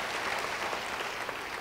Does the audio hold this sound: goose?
no